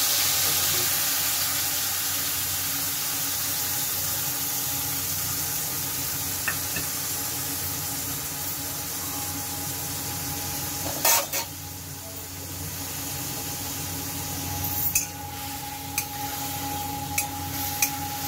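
Onion, ginger and garlic frying with turmeric powder in a pan, a steady sizzle close by with occasional clinks and scrapes of a spoon stirring, no talking.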